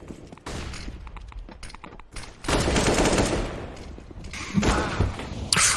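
Gunfire in Counter-Strike: Global Offensive during an ESL UK Premiership match, a rapid burst of automatic rifle shots followed by a sharper louder volley and a final crack, punchy and close with no talk over it.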